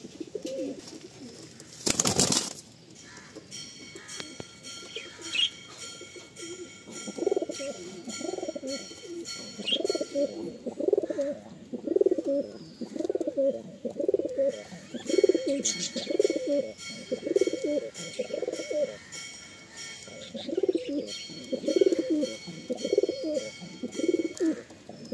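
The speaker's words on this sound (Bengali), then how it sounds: "নেক্সট একটা কালো পায়রা দেখুন" Pigeons at a market stall, including a black pigeon, giving repeated soft throaty coos in steady rhythmic runs, close and moderately loud, with a brief sharp noise near the start and quiet pauses between bouts.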